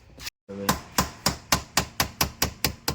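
Sharp hammer blows drive a concrete nail to knock out the key lock cylinder of a Honda Jazz, about ten evenly spaced, loud, close metallic strikes after a brief silent gap.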